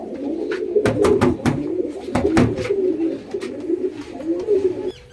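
A pair of Madras pigeons coo in repeated soft, throaty phrases, close by, mixed with a few sharp clicks or flaps.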